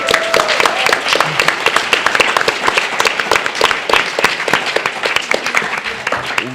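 A convention crowd at a BronyCon gathering claps and applauds in a dense, continuous burst of many hands nearby.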